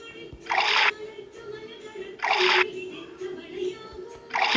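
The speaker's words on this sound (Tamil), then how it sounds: "இந்த க்ரீன் எல்லாம் ஒன்றா ஊற்றிடலாம்" Green liquid pours in a video game: three short bursts of splashing, sloshing sound at regular intervals, each about half a second long, over a low electronic background hum.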